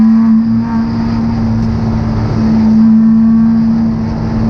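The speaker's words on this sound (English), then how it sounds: "green flag, and we're underway at Gingerman Raceway towards turn 1, side by side" Race cars at Gingerman Raceway during a GridLife Midwest race start roar in a loud, steady engine drone with a sustained tone, no talk.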